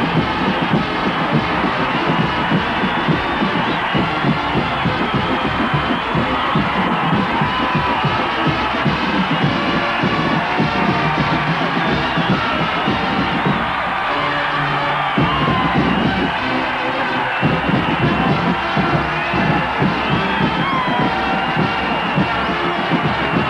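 Crowd of 75,000 at the Cotton Bowl football game cheering as the Ohio State Buckeyes take the field, a loud, sustained roar of whoops and yells that continues throughout.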